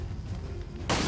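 Gunfire from the video game XCOM 2 during an alien-hijacking mission: a low rumble gives way to a sudden loud, broadband shot burst that stays full and sustained to the end, with no voices.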